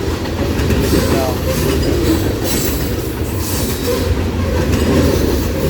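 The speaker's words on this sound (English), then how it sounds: "These are completely full. So this is a heavy, heavy, heavy train." A fully loaded, heavy CSX freight train rolls past at close range, a steady loud roar of wheels and cars with occasional squeal and rhythmic clickety-clack throughout.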